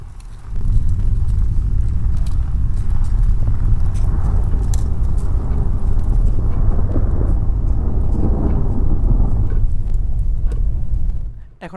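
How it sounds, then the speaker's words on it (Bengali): Thunder and rain relaxation ambience plays from a website as a dense, steady low rumble, loud and unbroken for about eleven seconds before cutting off abruptly. "এখন আমরা মোটামুটি বজ্রপাতের যে সাউন্ডগুলো আছে বৃষ্টির, ওই সাউন্ড আমরা পাচ্ছিলাম"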